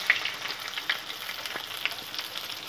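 Onions frying in hot oil with whole garam masala and bay leaf, a soft steady sizzle with a few faint crackles and small pops, close and fairly quiet throughout.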